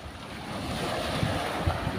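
Rough sea waves surge and wash steadily at a fishing spot where nets wait for calmer water, a continuous broad roar mixed with wind buffeting the microphone and a few heavier swells breaking near the end.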